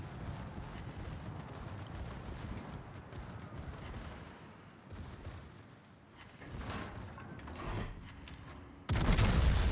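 Secondary guns of the battleship Tirpitz fire in World of Warships, a dense, continuous rumble of booming shots and gunfire with a heavy, louder burst at the very end and no talking.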